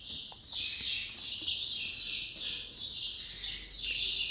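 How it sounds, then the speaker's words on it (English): Birds chirp in repeated high bursts, a steady rhythm of bright calls against a quiet background with no talking. "I can only hear the birds chirping."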